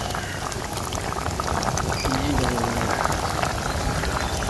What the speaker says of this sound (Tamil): கொதிக்குதே கொதிக்குதே